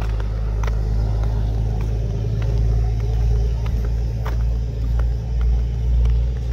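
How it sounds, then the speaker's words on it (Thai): Heavy trailer truck rolling past in the early morning, a deep, steady low rumble of engine and tires with slight swells in loudness, continuous and fairly close, with faint clicks and knocks scattered over it. "รถพ่วงนะครับขี่มาดูบรรยากาศตอนเช้า"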